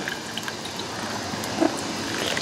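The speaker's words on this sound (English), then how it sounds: "So what I'm going to do is just take some straight water and just pour her right down" Plain water poured down into the coolant system of a Hammerhead 250SS motorcycle, a steady broadband splashing trickle, close and fairly loud, continuous throughout with no talking.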